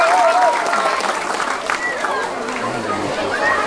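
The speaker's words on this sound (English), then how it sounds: "can we have a huge round of applause for Mr. Tom Bopp, who's been playing on the piano?" A crowd at a Yosemite National Park anniversary ceremony claps for a pianist, steady dense applause throughout with some voices and chatter mixed in.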